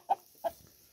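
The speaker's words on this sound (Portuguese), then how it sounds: "Temos várias galinhas aqui, né?" Two short clucks from a chicken on a small farm, close and clear, spaced about a third of a second apart against a quiet background.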